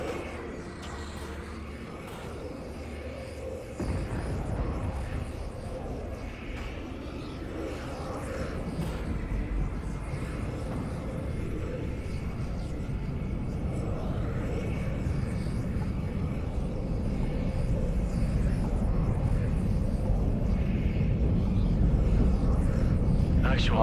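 Airplanes fly overhead in the video game Call of Duty: Infinite Warfare. A steady, rising engine roar builds over the whole span and sits beneath game sounds.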